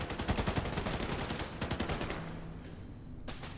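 Video game gunfire rattles out in a rapid burst of repeated shots, followed by a pause and then a second short volley, fairly loud and without speech.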